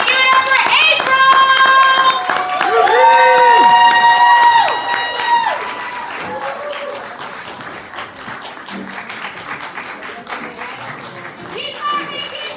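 Audience at a poetry slam claps and cheers for a poet, a dense burst of applause and whoops that later thins out, while the host's amplified voice and crowd shouting run through it.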